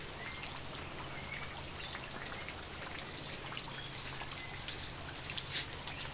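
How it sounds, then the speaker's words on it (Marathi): Steady rain falls continuously, a dense even patter with occasional closer drips, no voices present. "पळया सकाळच्यान पावस चालू आसा."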